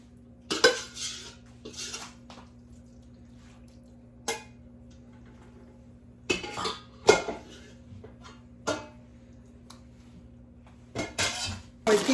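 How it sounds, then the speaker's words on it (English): Spoonfuls of tuna casserole mixture are scraped and poured into a casserole dish, giving scattered clinks and scrapes of utensil on dish with quiet gaps between them and a cough nearby. "And then I'm going to pour it into my casserole dish."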